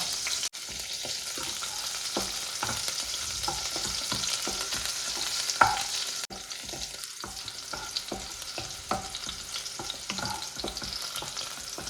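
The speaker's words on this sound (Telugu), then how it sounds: "ఇప్పుడు పచ్చిమిర్చి వేసుకుంటున్నాను నేను." Green chillies fry in a hot pan for a ginger chicken dish, with a steady loud sizzle and crackle across the whole stretch and occasional stirring scrapes, with no talk.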